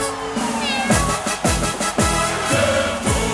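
A cat meows repeatedly within a song, several distinct, fairly loud meows in a loose rhythm over musical accompaniment.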